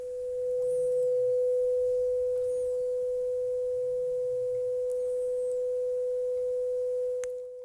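A steady 500 Hz test tone from a signal generator plays clearly through a restored Graetz Musica 4R417 tube radio, holding an unwavering pitch for several seconds, with faint low background noises beneath it.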